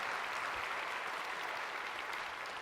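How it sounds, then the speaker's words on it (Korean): Congregation at a Korean church sermon applauding together, a steady, dense wash of many hands clapping with no break, fairly soft and distant throughout. "진짜 이분들 박수 한번 해주세요."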